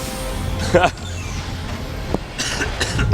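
A couple of harsh coughs break through a steady background murmur of a StarCraft 2 GSL match commentary, with voices faintly present underneath.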